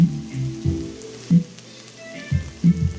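Onions sizzle in olive oil in a pan as they are mixed, a soft steady fry broken by repeated thumping stirs and scrapes at an uneven pace, with no talking.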